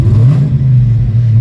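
A car engine being built toward 1000 horsepower runs close and loud, its low throaty note holding steady with slight wavering and no voices over it.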